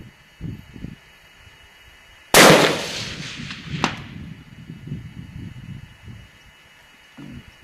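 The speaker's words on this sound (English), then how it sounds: "Okay, we're on target. We're ready for the first round." A Norma 6.5x284 rifle fires a single sharp, loud shot at a 400-yard target during long-range shooting, followed by a decaying echo and a faint distant crack of the hit, with quieter background rustle before and after.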